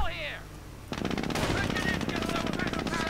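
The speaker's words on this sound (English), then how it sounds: "Volksgrenadiers coming under fire from the Jeep, a little damage there." Loud machine gun fire from a Jeep in a war strategy game set in World War II, rapid continuous bursts that start abruptly after a quieter opening and keep going steadily to the end.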